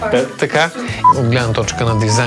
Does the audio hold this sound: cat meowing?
no